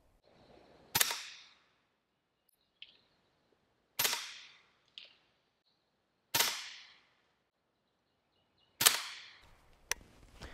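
Four sharp suppressed gunshots from an AB Suppressor F4L firing 150 grain Syntec ammunition ring out outdoors a few seconds apart. Each report is loud, with a short decaying tail, and softer pops fall between them.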